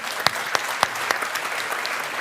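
Applause from an award show audience in Brussels, a steady patter of clapping with a few sharper, louder claps standing out near the start.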